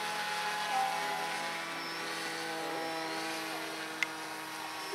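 Small radio-controlled model airplane with a buzzing electric or glow motor, steady and fairly faint as it climbs away after takeoff, a thin continuous whine with no talk.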